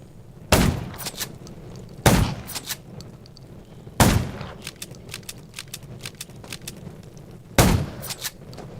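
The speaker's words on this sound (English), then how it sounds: "Gunshots will attract more." Four loud, sharp gunshots in the zombie video game Undawn ring out at irregular intervals, each followed by scattered clicks and small pops in a quiet background.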